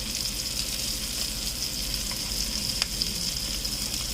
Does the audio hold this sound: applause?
no